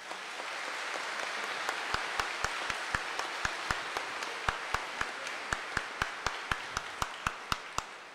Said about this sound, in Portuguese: Queremos saudar a todos com uma bonita salva de palmas.